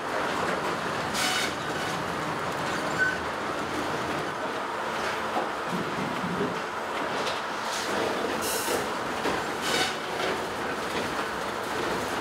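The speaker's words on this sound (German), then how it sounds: "Das Holz fährt langsam zum Rundholzbediener, läuft durch die Entrindung" Sawmill machinery with a log conveyor moving roundwood slowly through the debarker and a metal detector; steady, dense mechanical rumble and clatter at moderate level, continuous throughout with occasional brief knocks.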